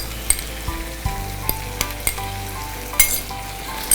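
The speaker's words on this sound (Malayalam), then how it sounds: "അപ്പോൾ ഇഞ്ചി വെളുത്തുള്ളി എല്ലാം പാകത്തിന് മൂക്കും, സവാളയുടെ ബാക്കി മൂക്കനും സെറ്റാകും" Onion with ginger and garlic paste sautéing in a pan, a steady close sizzle with a low hum beneath and occasional scraping stir clicks, no talk.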